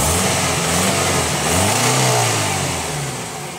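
A used car's engine revs up and down, loud and close, with rising and falling pitch at an outdoor used car market; no talk over it.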